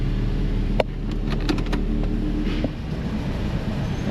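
A Toyota engine idles at around 1100 rpm while being checked for misfires, a steady low rumble with a few faint ticks and clicks over it, heard up close.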